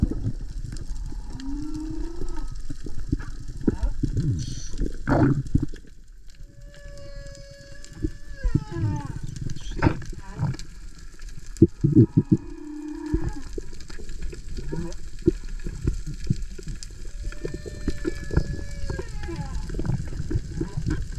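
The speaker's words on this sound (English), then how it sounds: "listen to the whales in the back. They sound crazy." Whale calls echo underwater during a spearfishing dive off Hawaii, a long run of moans, squeals and rising or falling tonal cries over a steady wash of water noise, some calls loud and near, others faint and distant.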